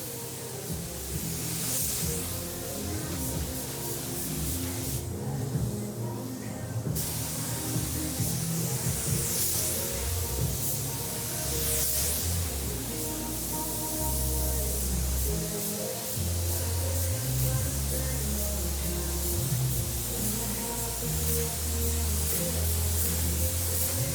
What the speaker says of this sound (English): Here it is in the booth getting sprayed with sealer and base.